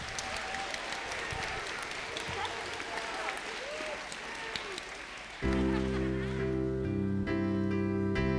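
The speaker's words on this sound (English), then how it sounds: "how about a big round of applause for our presentation of The Wizard of Oz" Audience applause at a school stage production of The Wizard of Oz, moderate and somewhat distant, with scattered voices, fading out before loud sustained organ-like music chords cut in and take over.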